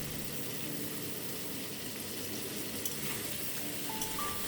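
Crab pieces marinated in salt and turmeric sizzle and crackle steadily in hot oil in a pan, a close, even frying hiss with no talk.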